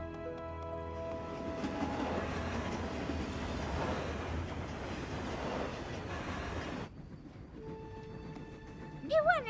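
An animated train rumbles and clatters steadily as it departs, a broad rolling roar that cuts off abruptly, followed by faint tonal music.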